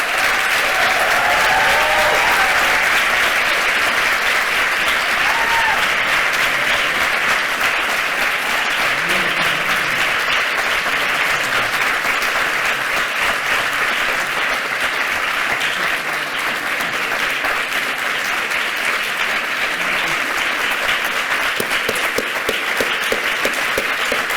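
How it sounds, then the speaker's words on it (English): Sustained applause from a large audience at an architecture awards talk, steady and dense throughout with no pauses. "Very well done, and a round of applause."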